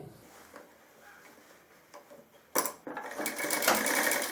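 A sewing machine stitching a seam on a shirt body, starting with soft intermittent bursts and then running steadily and loudly in a close, continuous whir through the second half.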